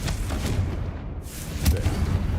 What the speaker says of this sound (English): Just need to go up here and cast Confringo.